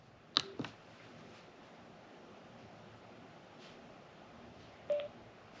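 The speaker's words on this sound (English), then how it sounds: "I'm going to press this jog dial so they can connect." Short electronic beep tones from a Sena 50S Bluetooth motorcycle headset connecting after its jog dial is pressed: a brief chirp near the start and another a few seconds later, over faint steady background hiss.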